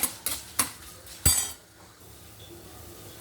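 Soaked tamarind being roasted in a pan for an ajwain leaf pickle brings a few sharp metal clinks of a utensil against the pan, then a quiet low stirring murmur.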